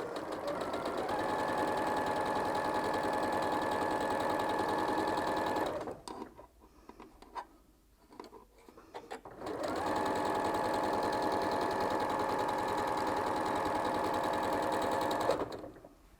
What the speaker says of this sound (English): I'm going to sew these two together, and then I'm going to chain piece the next two.